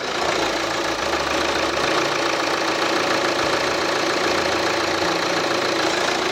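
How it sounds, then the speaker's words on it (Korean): A Kia Sportage R engine idles steadily, a continuous low mechanical hum with a faint rapid ticking, recorded close with no voices. "자 마지막으로 엔진 소리 한번 들어볼게요."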